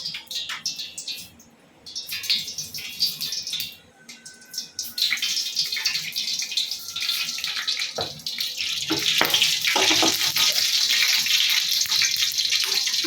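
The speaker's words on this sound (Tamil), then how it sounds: "எண்ணெய் ஹீட் ஆனதுக்கப்புறம் நம்ம இப்போ கொஞ்சம் கடுகு போட போகிறோம்." Mustard seeds spluttering in hot oil in a kadai: a hissing sizzle builds into dense crackling pops that grow louder and busier toward the end.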